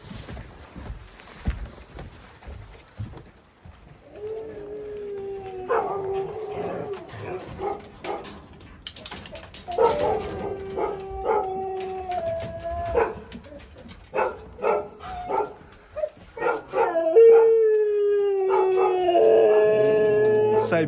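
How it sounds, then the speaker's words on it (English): A pack of Siberian Huskies howls and barks in a Karelian park, several drawn-out wavering howls rising together between sharp barks, moderately near and growing louder toward the end, with no voices. "Siberian Husky."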